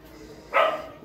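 A street dog gives a single short, sharp bark nearby, standing out loudly against quiet background.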